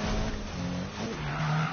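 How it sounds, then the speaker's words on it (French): A car drifts in Need for Speed, its tires squealing in a continuous loud screech over a steady engine drone for the whole stretch. "Tu sais, c'est ton char qui drift full"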